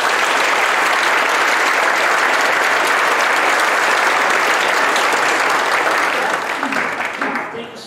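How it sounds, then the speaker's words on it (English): A church audience gives comedian Taylor Mason a loud, sustained round of applause, a dense wash of clapping that holds steady before tapering off at the end. "please, round of applause for Taylor today."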